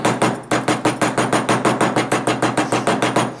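A plastic mallet strikes a wire bangle bracelet in a quick, steady run of about twenty close, sharp taps, each ringing briefly before the next, with no talk.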